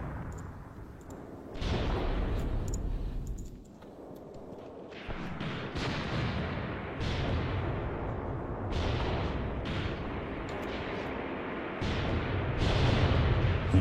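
Artillery rounds firing in a video game, a run of heavy booming blasts and rumbling impacts recurring every second or two over a continuous low roar, loud and without talk.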